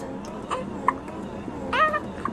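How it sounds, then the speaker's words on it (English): A little girl hiccups a few times, each one short and soft, with a brief voiced whimper between them against quiet room noise. "Did you just get the hiccups?"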